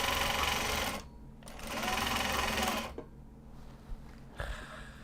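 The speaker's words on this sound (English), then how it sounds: "And then sew this, and sew the other side" A sewing machine stitches a bag of Japanese fabric in two fast, steady bursts of close mechanical whirring, with quieter handling noises and brief pauses between them.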